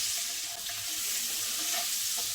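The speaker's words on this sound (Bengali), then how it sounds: "প্রথমে আমরা ডিমগুলো ভেজে নেব দিয়ে দিচ্ছি ডিমগুলো" Steady crackling sizzle of eggs frying in hot oil, continuous and close, with faint scraping stir sounds now and then.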